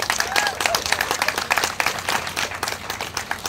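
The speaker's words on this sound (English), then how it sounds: "Let's give him another big round of applause" An audience at a community center gathering claps for an honoree, busy irregular clapping near and fairly loud, with a few faint voices and a brief whistle mixed in.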